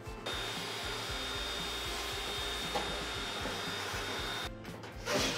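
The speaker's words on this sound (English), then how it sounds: "As you pull it up, you just use your shop vac to get rid of the lint." A shop vacuum roars steadily close by, sucking up dryer vent lint with a constant whooshing drone and faint rattles, then briefly shifts near the end.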